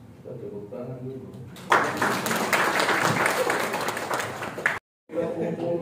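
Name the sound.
applause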